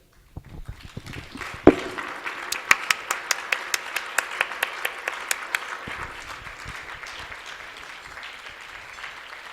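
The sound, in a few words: audience applause at conference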